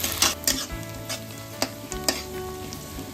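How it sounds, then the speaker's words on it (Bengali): Onions fry in hot oil with whole garam masala, a close, steady sizzle with a few sharp metallic clinks and scrapes of a spoon stirring the pan. "গরম তেলের মধ্যে গোটা গরম মশলা ফোড়ন দিয়ে পেঁয়াজটা ভালো করে ভেজে নিতে হবে যতক্ষণ না ক্যারামেলাইজ হচ্ছে।"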